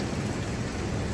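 Heavy rain pours steadily after a hailstorm in Al Ain, UAE, a dense, loud, unbroken wash of noise with no talking.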